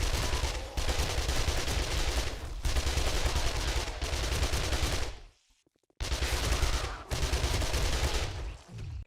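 Dense, loud automatic gunfire from guns shooting zombies in the video game 7 Days to Die, sustained bursts with a brief pause near the five-second mark before the shooting resumes.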